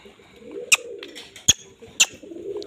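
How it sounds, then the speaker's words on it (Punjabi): A hen pigeon puffed up and displaying coos softly and steadily at close range, broken by three sharp, bright clicks spaced roughly a second apart. "ਉਹ ਦੇਖੋ ਕਬੂਤਰੀ ਚੌੜੀ ਕਰਦੀ ਆ ਜਿਵੇਂ ਗੁੜਕਣ ਵਾਲੇ ਕਬੂਤਰ ਕਰ ਜਾਂਦੇ ਨੇ"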